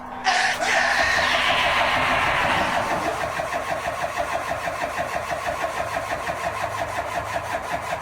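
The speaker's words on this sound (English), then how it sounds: "gentlemen, start your engine!" An older Duramax diesel truck engine cranks and fires up, then settles into a loud, steady, rapidly clattering diesel idle with a rhythmic pulse.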